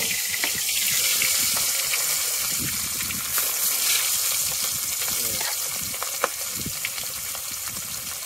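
Whole pomfret frying in a pan of hot oil after hilsa, a steady broadband sizzle running throughout with a few faint clinks and light background voices.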